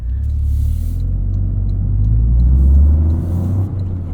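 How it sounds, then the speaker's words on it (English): The stock exhaust of a 2023 Toyota GR Corolla rumbles steadily at idle, a deep throaty drone that swells slightly before easing off, with no talking. "I think this stock exhaust is actually pretty perfect for what it is"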